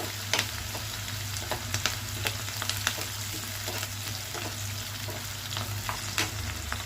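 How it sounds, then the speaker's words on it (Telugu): Chopped onions fry in a pan for a bitter gourd curry, giving a steady sizzle punctuated by sharp clicks and scrapes of stirring, close up with a low hum beneath. "ఉల్లిపాయలు కాస్త వేగాలి. కొంచెం మగ్గితే సరిపోతుంది"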